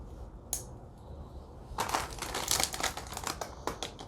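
Tough Italian military field ration pouch being cut open, a run of close crinkling, snipping and rustling plastic-foil noises that builds after a quiet start, with sharp ticks scattered throughout.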